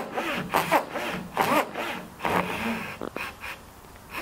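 A Japanese pull saw cutting a wooden strip for kumiko latticework, several rhythmic rasping strokes close up, each a second or so long, alone without speech.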